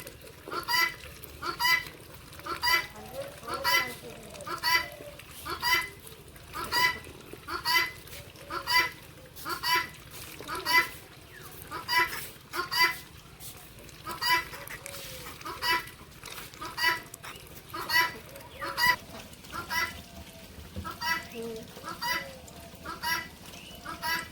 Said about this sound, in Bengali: তিতির পাখি